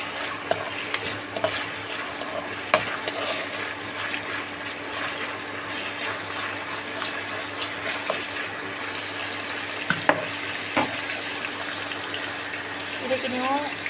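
Onion, tomato and mint leaves stirred while frying in a pan, a soft ongoing sizzle with scraping and occasional sharp spoon clicks, fairly close, no talk.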